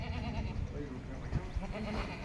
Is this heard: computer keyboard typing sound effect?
no